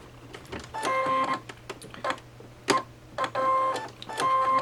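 A sewing machine stitches face mask straps in short runs, its close mechanical whirring starting and stopping several times against a low steady hum.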